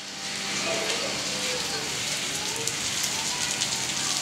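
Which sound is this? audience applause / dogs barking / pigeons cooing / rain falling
rain falling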